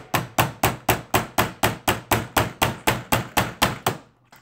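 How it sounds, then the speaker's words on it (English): A hammer strikes a knife repeatedly to drive out its standoffs, about fifteen sharp, evenly spaced metallic blows, loud and close, ending in quiet. "I'm literally getting a hammer out right now."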